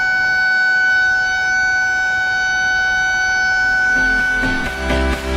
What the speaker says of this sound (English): this siren is loud and efficient